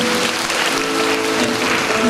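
Audience applause at a high school chapel service, a dense, steady wash of many hands clapping at once that holds evenly for a couple of seconds.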